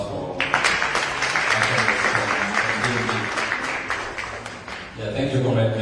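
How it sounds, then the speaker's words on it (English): An audience at a political community gathering applauding steadily for several seconds, dense clapping that fades slightly near the end, with a voice speaking over it toward the close. "Another round of applause for"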